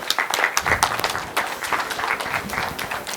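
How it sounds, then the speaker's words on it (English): Audience applause at an ICT summit: a dense, steady wash of many hands clapping, fairly loud and close, with no talk over it, filling the whole stretch. "Let's give them a round of applause."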